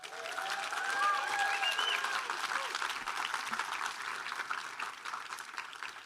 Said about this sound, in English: please give a massive round of applause for our volunteers